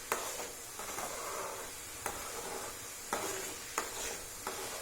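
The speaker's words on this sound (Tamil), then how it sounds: "இப்போ கொஞ்சம் நல்லா கொதிக்குது. கொஞ்சம் ஃப்ளேம் ஏற்றிக்கலாம். ஏற்றினோடனே நல்லா கொதிக்குது." Homemade ghee boils and sizzles in a pan over a raised flame, a steady frying crackle close by, with a spoon scraping through it in periodic sharp strokes.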